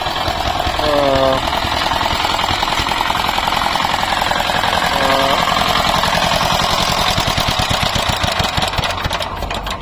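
An Indian-made all-in-one power tiller mini tractor engine runs close and loud with a rapid hammering knock, revving up twice before settling into a steady chug, while someone talks over it.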